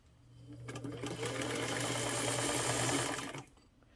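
A 1927 Singer 99 sewing machine with a knee lever and domed top runs a seam, its motor spinning up into a fast, even stitching whir that holds for a few seconds and then stops, nearby and alone.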